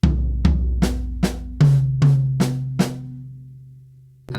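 Drum kit strokes move between floor tom, high tom and snare in a steady rhythm of about eight resonant hits, close and clear, with a final hit at the end.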